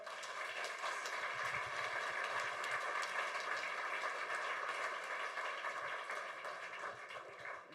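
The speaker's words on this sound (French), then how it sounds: "je vous demande d'accueillir et d'applaudir très fort Mélanie Joubert" A crowd claps in a dense, steady wash of applause that holds for several seconds before easing slightly at the end.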